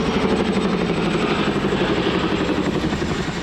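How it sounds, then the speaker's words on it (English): A helicopter flies overhead, its steady rotor thrum and engine roar holding loud and continuous throughout, with a rapid chopping pulse and no voices, at a windy, rainy campsite. "Helicopters, get ready to save me later."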